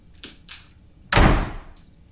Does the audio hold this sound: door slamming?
yes